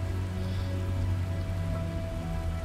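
Steady rain in a video game set at sea around an island, where a plane floats on the water; an even, continuous hiss of falling rain over a low droning hum, with no voices.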